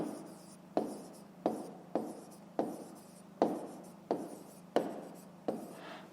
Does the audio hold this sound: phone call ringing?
no